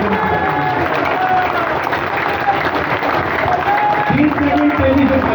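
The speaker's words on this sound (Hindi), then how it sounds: "इनके लिए ताली बजाइए।" An audience at an outdoor political meeting claps together, a steady dense patter of hands that stays fairly loud throughout, mixed with crowd murmur and a voice speaking over it near the end.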